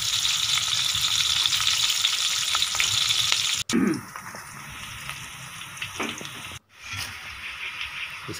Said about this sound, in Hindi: सबसे पहले घी में आप प्याज डाल दें। इसको हल्का ब्राउन करना है।